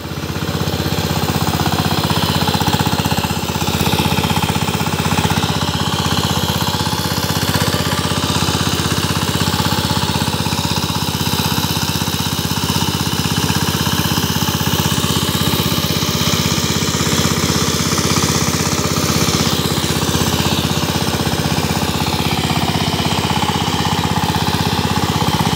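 A 25 hp diesel power tiller runs close by, its engine a loud, unbroken, rapid knocking clatter that holds steady throughout with no voices.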